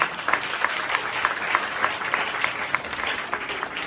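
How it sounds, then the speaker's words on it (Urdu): Loud, steady applause from a church congregation at a Palm Sunday service, continuous dense clapping with a few sharper claps standing out, heard close and alone. "تو اپنے لیے زوردار تالی بجا کریں"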